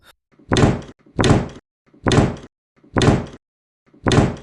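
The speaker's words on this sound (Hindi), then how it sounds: "किसी ने अंदर से अलमारी पर दस्तक दी।" Five heavy, evenly spaced knocks on a wooden wardrobe door from inside, each a dull thud with a short tail, separated by silence, close and loud in a dark room for a horror story.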